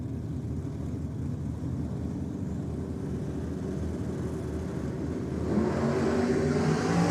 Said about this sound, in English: But it's big Barney Lindner, nitrous, big block against Turbo LS for Peter Faulkner.